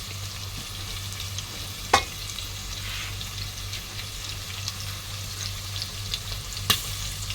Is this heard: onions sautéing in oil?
yes